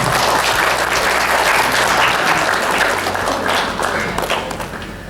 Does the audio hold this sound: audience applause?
yes